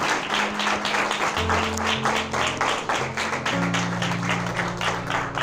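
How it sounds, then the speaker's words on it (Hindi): Congregation applause at a church sermon gathering, many hands clapping in a quick rhythmic pattern over sustained keyboard chords that change pitch. "आइए जोरदार तालियां खुदा के जलाल के लिए बजाते हैं"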